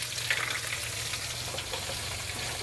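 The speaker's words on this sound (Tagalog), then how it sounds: "mahagbong siya di sa kalha nga bukal-bukal sa oil" Food frying in boiling oil in a wok gives a soft, steady sizzle with fine crackles throughout, fairly quiet and with no voices.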